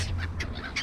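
Several nervous seagulls give short harsh squawking calls in quick succession, close and fairly clear over faint background noise.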